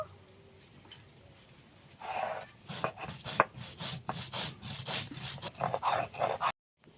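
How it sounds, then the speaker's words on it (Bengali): Ginger is ground into a fine paste on a stone, giving a quick run of rhythmic scraping strokes, close and fairly loud, that starts after a quiet moment and stops abruptly. "আদাটা মিহি করে বেটে নেব।"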